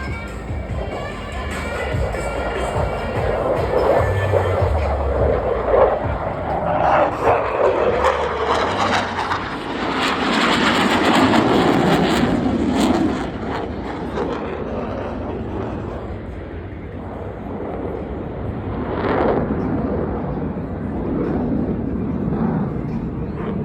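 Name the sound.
Blue Angels jet aircraft crossing over show center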